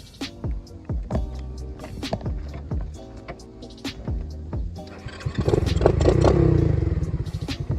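A motorcycle being ridden: uneven mechanical clatter and revving pulses, then a rising engine roar as the bike gets moving, fairly close with no talking.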